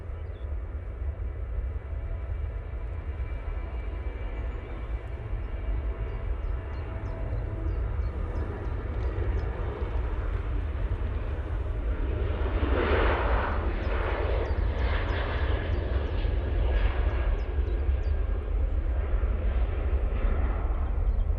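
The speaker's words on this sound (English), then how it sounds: "Jet 2, now on the roll, using the 737-800 in the Holidays livery." A Jet2 Boeing 737-800 in Holidays livery rolls down the runway for takeoff at Manchester Airport, a steady distant engine roar that swells and rumbles louder over about twenty seconds.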